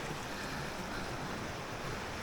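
Water runs in a small woodland stream, a steady broadband rush that holds even and unbroken at moderate level throughout, with no voices.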